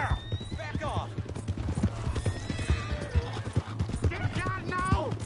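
Hooves clip-clop steadily on a horse in Red Dead Redemption 2 in the town of Valentine, with whinnies and neighs rising over the hoofbeats while voices shout nearby.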